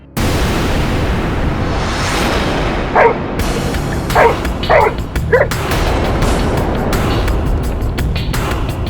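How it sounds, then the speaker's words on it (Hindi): A dog barks in a short burst of several yips over constant loud background noise, fairly close. "क्यों भौंक रहा है?"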